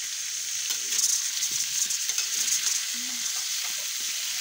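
Boiled, peeled new potatoes being sautéed for aloo dum, a steady close sizzle with spoon stirring and scraping noises over it, no talk.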